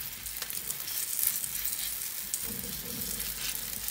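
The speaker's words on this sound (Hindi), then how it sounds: "ये देखिए, मैंने अपनी रोटी को तवे पे डाल दिया है" A roti sizzles steadily on a hot tawa over high flame, a soft continuous frying hiss with a faint crackle, close and fairly quiet, with no one talking.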